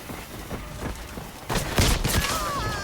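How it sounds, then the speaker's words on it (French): Gunfire in the shooter game Highguard comes as a few sharp shots and bursts over a busy background. "Je tire sur nos ennemis."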